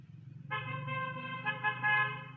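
A car horn in street traffic gives one sustained honk lasting nearly two seconds, loud and close, over a low rumble of passing vehicles.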